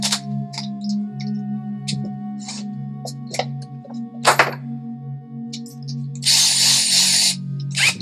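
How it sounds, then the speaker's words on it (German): A power drill boring a small 2 mm pilot hole, a steady whirring motor hum with brief thunks and clicks, ending in a louder grinding burst near the end. "Dazu bohre ich mir hier kurz ein kleines Zweierloch vor."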